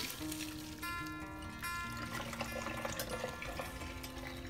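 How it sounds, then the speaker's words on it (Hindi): Hot water from boiled vegetable hakka noodles pours steadily through a strainer in a kitchen, a continuous splashing, draining rush with no speech over it. "अब हम इन्हें स्ट्रेन कर लेंगे।"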